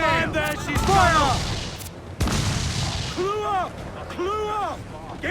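Naval cannons boom in a pirate ship battle game, several broad blasts amid shouted voices of crew and loud ambient din, with a sharp report near the middle.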